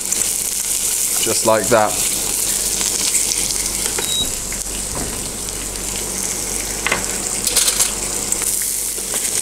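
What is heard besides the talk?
beetroot pieces sizzling as laid in hot pan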